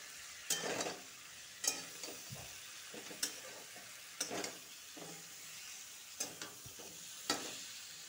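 A spoon stirs a potato, pumpkin and squash curry with red chili as it fries in a pan, soft sizzling underneath and about eight distinct scraping strokes spaced irregularly, fairly quiet and close with no talking.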